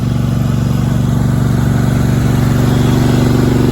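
A small go-kart engine fitted to a child's tractor idles loudly and steadily up close, a low, constant rumbling drone that neither rises nor falls.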